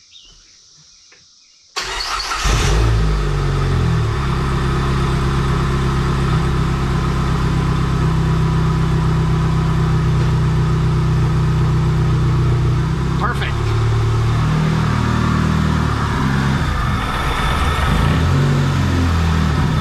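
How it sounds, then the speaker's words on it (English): A Dodge SRT-4 car engine fitted with a big turbo cranks and catches, then runs loud and steady with a deep rumble, swelling briefly as it revs. "Turbo sound now."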